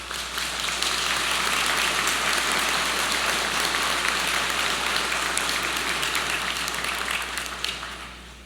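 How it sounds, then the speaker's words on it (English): A large audience at a business school spring graduation ceremony applauds steadily, a dense sustained clapping that fills the room and tapers off slightly at the end. "let's give them a heartfelt applause"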